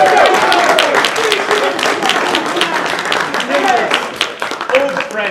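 A crowd cheers and claps to welcome Daniel Webster, a dense, loud wash of applause with shouting voices mixed through it.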